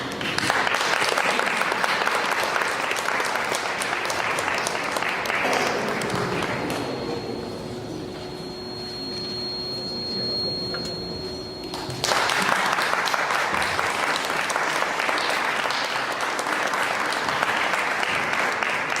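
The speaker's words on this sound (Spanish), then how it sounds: "Para ellos un fuerte aplauso" Loud audience applause at a national orality festival event at an art museum, dense clapping that dips briefly in the middle while a steady electronic tone sounds, then resumes at full strength.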